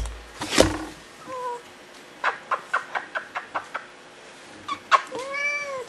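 Bounty, a female cat, howls close by: a sharp opening cry, then a rapid run of short yowls, and a final long wavering wail.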